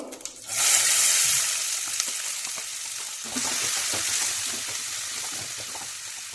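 Chopped onion and green chilli fry in hot oil with cumin seeds, giving a loud sizzle that flares as the pieces go in, then settles into steady crackling with light stirring.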